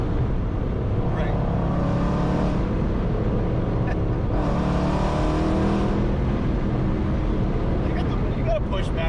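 A ProCharged 5.7 Hemi engine drones steadily while the car drives in fourth gear, a loud continuous rumble with swells of revving, as people talk inside the cabin.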